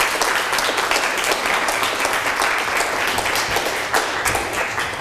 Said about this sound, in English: a round of applause to all those who are up here tonight on this stage